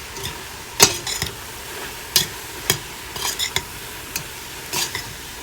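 Ground beef and a link of sausage are stirred in a pot for spaghetti sauce, with a spoon scraping and knocking against the pot in scattered clicks over a faint sizzle, close and without talk.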